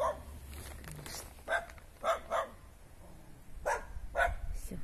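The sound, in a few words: dogs barking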